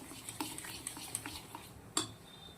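A spoon stirs thick fermented idli batter in a metal pot, with soft scraping and repeated light clinks, then one sharper knock near the end.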